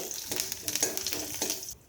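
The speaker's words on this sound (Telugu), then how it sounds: "వెల్లుల్లి కూడా ఇలా వేగాయండి" Garlic frying in hot oil in a pan gives a steady bright sizzle with soft stirring scrapes, close and continuous, then briefly quieter at the end.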